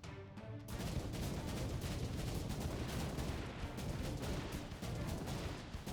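Continuous rapid bursts of explosions and gunfire from the tower defense game Spirits of the Hellements, dense and crackling, layered into a steady barrage from start to finish.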